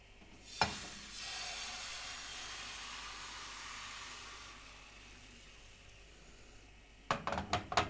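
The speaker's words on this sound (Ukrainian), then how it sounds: "На розігріту сковорідку вливаємо тісто." Spinach pancake batter hits a hot frying pan with a soft thud, then a steady bright sizzle that slowly fades; a few sharp scraping clinks near the end.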